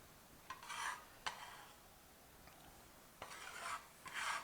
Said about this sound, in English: But it scrapes it up.